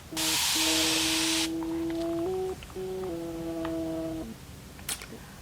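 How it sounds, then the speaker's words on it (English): A spray bottle gives one short hissing spritz of water onto hair. A steady electronic tone plays under and after it, and a faint click is heard near the end. "I'm gonna spray water on my hair and let's see what happens"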